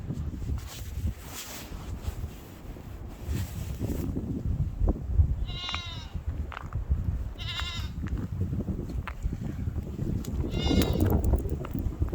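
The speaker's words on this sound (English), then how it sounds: "Here are my goats acting like they're starving to death, as usual." Several goats bleat in short bursts, three distinct calls rising over a steady outdoor wind rumble, fairly close by.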